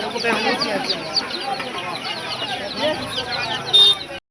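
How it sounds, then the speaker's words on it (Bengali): Chicks and chickens cluck and cheep at a busy Kolkata animal market, with voices talking over the chatter of the birds. "হচ্ছে মুরগির বাচ্চা"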